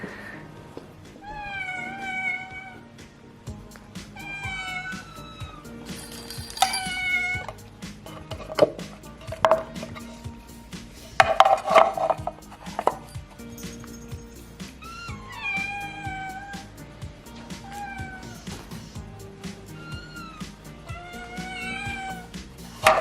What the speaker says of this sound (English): I am about to feed the cats dinner, and I thought I would show you the excitement levels that are experienced in this flat at cat feeding time